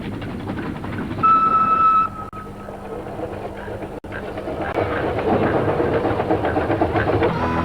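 An old restored 'coffee pot' train running along a railway line out of Quorn in the Flinders Ranges, a steady rumble with a brief high whistle-like tone early on.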